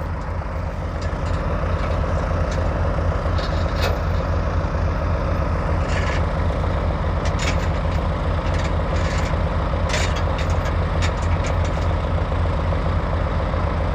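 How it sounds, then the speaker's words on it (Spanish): A tractor works during a watermelon harvest in the Ciénega de Chapala, Michoacán, its engine giving a loud, steady, close rumble throughout, with occasional metallic clicks and clanks. "Y ya llegó ahí el otro tractor, ahora sí, a ver qué hace"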